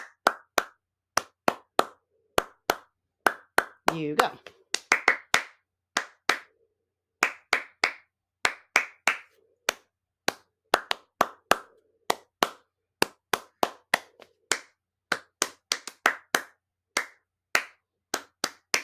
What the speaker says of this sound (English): we're only going to use clapping, right?